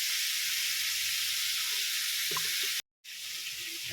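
Pork salpicao frying in a pan, a steady broad sizzling hiss throughout with a few faint clinks, briefly cutting out for a moment before resuming.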